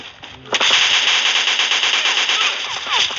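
Rapid automatic gunfire rattles continuously in a sustained burst, loud and close, after a short moment of quieter sound.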